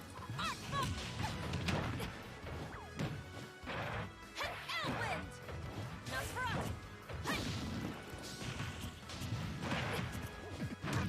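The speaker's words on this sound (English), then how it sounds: "Oh, good down smash." King Dedede's down smash in Super Smash Bros. lands with a heavy crash among repeated game hits and whooshes during an online tournament grand final, under continuous excited commentary.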